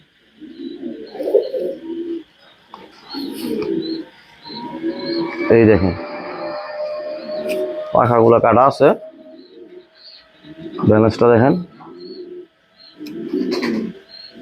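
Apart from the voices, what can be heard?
male pigeon cooing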